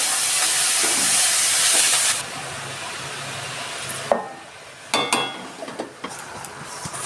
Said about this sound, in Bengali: এবার আমি বাঁধাকপিটা দিয়ে দিলাম